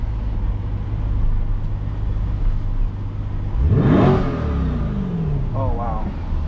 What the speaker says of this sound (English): Let's see what it sounds like if I rev it.